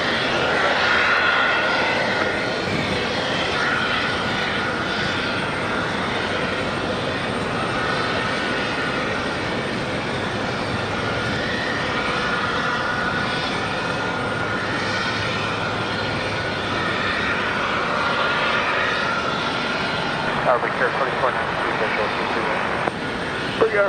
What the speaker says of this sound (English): We've got, on final, Gulfstream G200 coming in from Colombia.